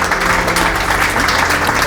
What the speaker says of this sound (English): Can we get some applause for Ezra, Dorothy, and Emmanuel?